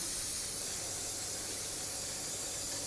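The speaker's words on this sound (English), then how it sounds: "Spray it down with some brake parts cleaner." Aerosol brake parts cleaner sprays in a steady, loud hiss onto the front wheel hub of a 2007-2009 Saturn Aura during wheel bearing replacement, continuous for about three seconds with no talking.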